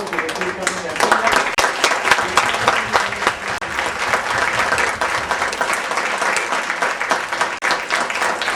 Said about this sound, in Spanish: Y un gran aplauso al señor David Arran